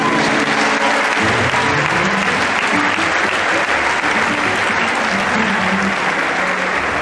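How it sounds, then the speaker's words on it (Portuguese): A church congregation applauds loudly and steadily throughout a baptism service, a dense, continuous wash of clapping that fills the room from start to finish. "Pode aplaudir o Senhor."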